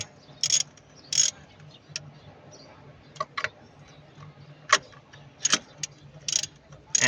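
A ratchet loosens spark plugs on a Mitsubishi New Lancer with a coil fault, giving short bursts of sharp clicking at irregular intervals over a quiet background.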